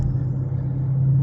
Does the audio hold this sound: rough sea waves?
no